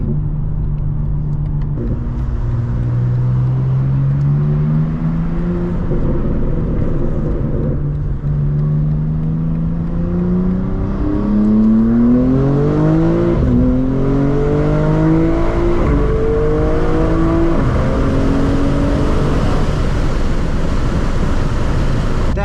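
A brand-new 2025 BMW M4 Competition fitted with downpipes, a midpipe and high-flow cats roars through repeated hard accelerations, the loud exhaust note climbing in pitch through each gear with brief dips at shifts, close and sustained for over twenty seconds.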